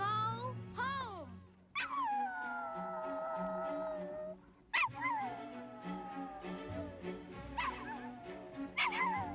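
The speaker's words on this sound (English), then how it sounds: "his little howl was really sad when she's taken away." The small dog from the film Return to Oz howls and whimpers with long, wavering, mournful cries that rise and fall, repeated several times and broken by short yips, fairly clear and close.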